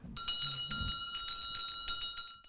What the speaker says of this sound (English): Clerk, ring the bells for 4 minutes.